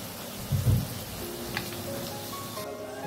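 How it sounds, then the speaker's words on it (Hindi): Okra (bhindi) fries in medium-hot oil, a steady close crackling hiss with a brief louder burst early on. "मीडियम हॉट गर्म करने के बाद इसमें ऐड करेंगे हम अपनी भिंडी को और लगभग 4 मिनट तक इसको फ्राई करेंगे अच्छे से"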